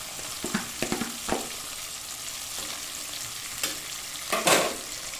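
Ground chana dal frying in a pan, with close, intermittent sizzling crackles and scraping stirs that rise in short bursts over a low steady hiss; no talking.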